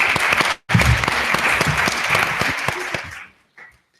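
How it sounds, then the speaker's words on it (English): Conference audience applause at a health disparities conference: loud, dense clapping from a crowd, briefly cut off after half a second, then resuming steadily before tapering off with a last few faint claps. "let's give them a round of applause"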